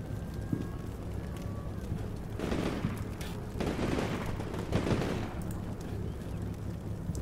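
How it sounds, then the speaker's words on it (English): Sustained bursts of machine gun fire from a rooftop position in Combat Mission Shock Force 2 swell and fade in several rattling waves over a low steady rumble, moderately distant, with no voices. "we've got a machine gun on the roof here taking care of most of the technicals and most of the approaching infantry"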